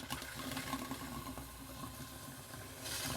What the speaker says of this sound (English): we're just gonna run the water a bit to make sure all the air is out of the lines